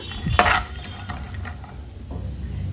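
Dry fruits such as almonds fry in a pan over low heat for a sweet, giving a soft continuous sizzle with one loud scrape of a spoon near the start and lighter stirring after.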